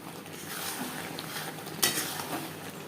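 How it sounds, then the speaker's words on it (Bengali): A spoon stirs sweet, sour and spicy raw-mango chutney with jaggery and roasted spice in a pan, giving soft repeated scraping and light sizzling, with one sharp metallic clink partway through. "বেশ ভালো করে মিক্সড করে দেব।"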